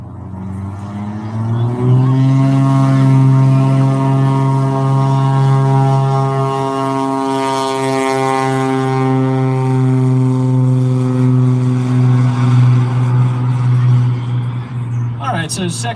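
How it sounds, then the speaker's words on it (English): A Cessna 185 propeller plane roars loud and close through a short-field takeoff run, its engine tone steady and rising in pitch, with no talk over it. "Rod Hansen now on the Cessna 185 for his second takeoff."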